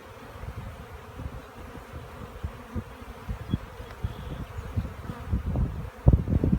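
Honeybees buzz around an opened garden hive as frames are shifted, a steady close drone with a few louder, nearer passes toward the end and no talking.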